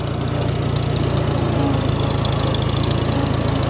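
A Farmall 350 tractor drives a Woods 208 bush hog cutter, a steady, loud, close engine drone with a rapid knocking throb and mower rumble running continuously without a break.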